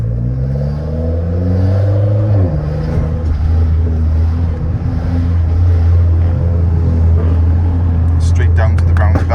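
A Mitsubishi Lancer Ralliart driving in super sport mode gives a loud, steady engine drone from inside the cabin. The pitch drops sharply with a gear change early on, and voices murmur faintly beneath it.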